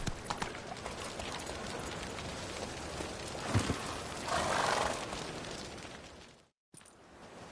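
Hooves clop steadily as the horse Roach gallops in Witcher 3, a rhythmic beat under rushing wind and ambient game sound, with a brief swell midway and a short dropout near the end.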